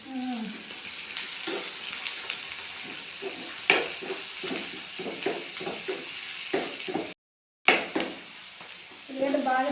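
Chicken sherva cooking in a pan, with intermittent sizzling and frying plus repeated scraping stirs and clinks of a utensil, close and moderately loud, ending with a brief pause before the frying resumes.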